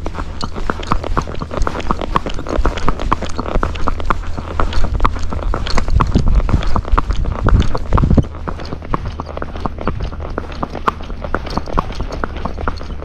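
A young Fox Trotter's hooves beat a brisk, regular clip-clop on a road while ridden, close and continuous, with a heavier rumbling patch partway through.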